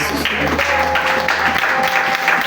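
Congregation applause given as an offering of acclamation at a church youth seminar, a steady wash of clapping mixed with crowd noise and some voices throughout.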